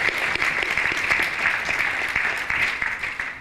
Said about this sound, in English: we should really welcome the Prime Minister with a round of applause